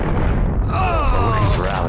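A heavy, booming gunshot from a dark crime shooter rings out with a deep low thump, followed by a swirl of tonal effects while talk or game dialogue carries on over it.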